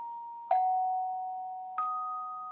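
Two clear tone bells, pitched notes from a pentatonic scale, struck one after another about a second apart, each ringing on with a long, slowly fading sustain in a quiet room.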